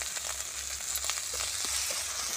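Onion paste with garlic paste fries in hot oil in a pan for a prawn malai curry. It makes a steady, close sizzle with occasional stirring scrapes and no talking.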